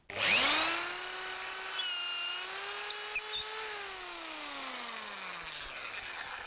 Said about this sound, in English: So I'll drill this hole here.